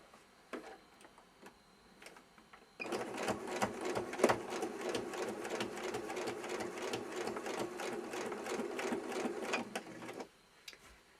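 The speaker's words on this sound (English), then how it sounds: "the legs are going to be sewn with the seam along one side" A sewing machine stitching fabric for an Easter bunny's legs runs in one steady, fast rattling burst of about eight seconds, close and fairly quiet, with faint handling sounds before and after.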